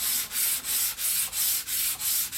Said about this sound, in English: give them a final sanding, just gently, back and forth on your sandpaper on the MDF